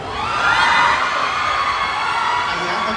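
A crowd at a Filipino entertainment press event shouts and cheers loudly for a celebrity pair, a steady roar of screams and whoops lasting throughout.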